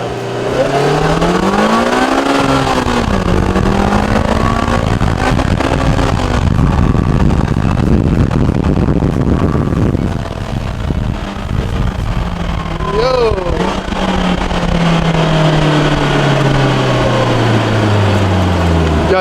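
A naturally aspirated Polaris Slingshot R engine roars loudly and close as it accelerates, pitch climbing and dropping with each gear shift, while people talk excitedly over it.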